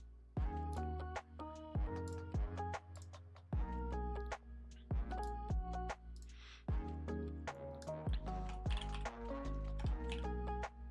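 A computer keyboard clatters with quick irregular keystrokes in short bursts and brief pauses, close and crisp against a low steady hum.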